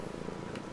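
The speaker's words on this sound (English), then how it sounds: "Oh, it's purring." A cat purrs in the video game Brothers: A Tale of Two Sons, a low, continuous rumbling vibration, close and steady, heard alone.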